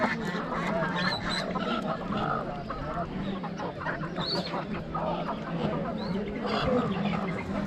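Ducks quack and cluck steadily at a village poultry market amid a busy crowd, with voices chattering throughout.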